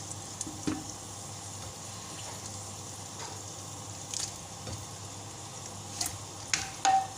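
Large pieces of mutton cooking in a pot for Chinioti mutton kunna, giving a low, steady sizzle broken by scraping and clinking sounds as the meat is stirred, moderately faint and close, with no talking.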